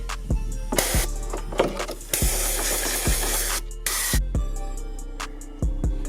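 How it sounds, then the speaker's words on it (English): Bursts of black aerosol spray paint hiss on and off on a Jeep Cherokee XJ's rocker area, interrupted by short pauses and low thumping knocks in between. "And then we're gonna spray it black."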